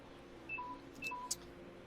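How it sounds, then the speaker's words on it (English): Phone giving two short electronic beeps, quiet and close, each a brief two-tone chirp about half a second apart, followed by a faint click. "Goddamn phone."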